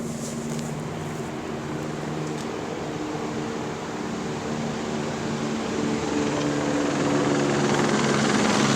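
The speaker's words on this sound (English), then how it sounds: "The entity is stalking by helicopter." A helicopter flies overhead above a town square, its steady loud rotor drone filling the whole stretch and swelling slightly louder toward the end, with no voices.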